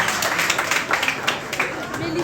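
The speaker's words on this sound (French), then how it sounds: "on applaudit pour vous" An audience at a school spelling contest final claps for a contestant, a steady close patter of applause with voices over it.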